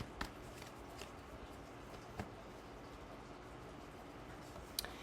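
Tarot cards are shuffled and pulled: a faint, steady papery rustle with a few sharp card snaps and flicks scattered through it, close and quiet, with no talking.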